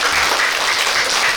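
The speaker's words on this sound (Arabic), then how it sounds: "واعطونا تصفيق على ناس وهران" A studio audience at an Algerian children's game show applauds for the people of Oran, a dense, loud, steady wash of clapping heard close throughout with no pause.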